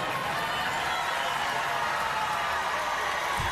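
A basketball arena crowd roars steadily through the closing seconds of an LSU vs UCLA fourth quarter, a dense, continuous wash of cheering and noise at moderate distance with no pauses.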